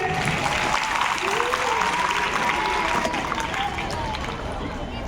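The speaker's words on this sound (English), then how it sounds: "This is the right answer, everyone. Clap for them." Audience applause at a general knowledge quiz contest after a correct answer, steady clapping with crowd murmur and a voice speaking over it throughout.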